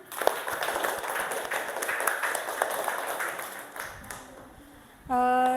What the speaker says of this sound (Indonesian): Tepuk tangan buat Adil